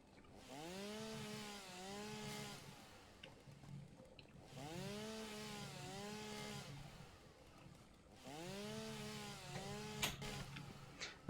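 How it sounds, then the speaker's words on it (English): Chainsaw in the video game Satisfactory cutting through wood in three long revving bursts, each a few seconds long, with steady engine whine and short pauses between cuts. "I'm just going to get some more fuel with the chainsaw here."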